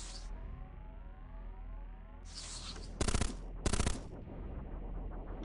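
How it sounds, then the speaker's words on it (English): Robots firing weapons in the video game Cogmind: two sharp, loud bursts of gunfire about a second apart cut through a steady electronic drone and bright whining tones. "They're going to waste their time shooting each other and shooting us."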